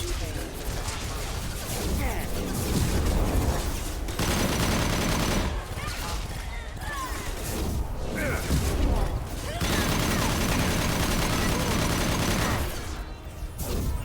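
Bursts of gunfire and heavy weapon fire in Mass Effect Legendary Edition 2 crackle and boom in dense clusters, broken by short lulls, with voices talking among the shooting.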